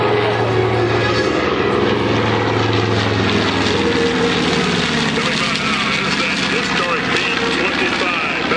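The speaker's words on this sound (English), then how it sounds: "the next airplane on takeoff roll is the BT" A B-25 Mitchell bomber's propeller engines roar loudly and steadily as the plane rolls for takeoff at an airshow, a deep continuous drone with rising whine.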